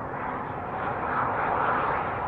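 A Sun Country Boeing 737 jet roars past at an Austin airport, a steady, loud, broadband rumble that swells slightly as it passes and lasts throughout.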